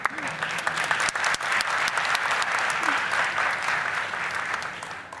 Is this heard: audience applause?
yes